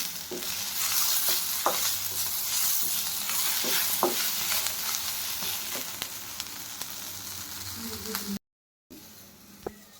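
Cashews frying in oil in a pan for paneer masala, a steady dense sizzle with occasional stirring clinks and scrapes, close and continuous, cut by a brief silence near the end.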